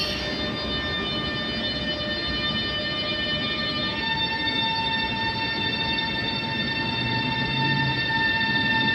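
A tram in Padova gives a steady rumbling run, with several sustained tonal whines and hums layered over it, continuous and fairly close, no talking.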